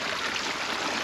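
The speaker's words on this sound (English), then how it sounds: "just look at this water coming through here" Water streams steadily through a muddy, swampy field, a constant broadband rushing with no break and no voices.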